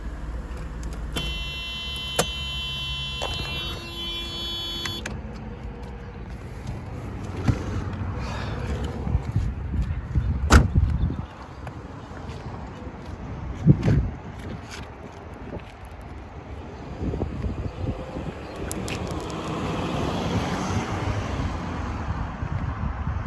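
A 1994 Mercedes-Benz E320 convertible sits with its engine running in a steady low rumble under wind noise. Scattered clicks and mechanical thumps come along with it, and a brief electronic chime rings near the start.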